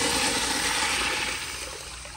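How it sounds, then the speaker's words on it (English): Kohler Bardon washdown urinal flushing from a small pressure tank, a steady loud rush of water that tapers slightly toward the end, heard alone. "So I'll give y'all a few more flushes."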